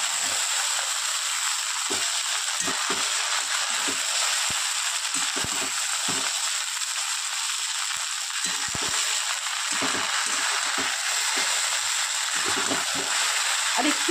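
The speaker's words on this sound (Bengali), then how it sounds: "চাউমিনটা খুব ভালো করে ভাজি" Chowmein fries in a pan with a constant, loud sizzle and hiss, while occasional low clatters and stirring knocks break through the steady frying noise.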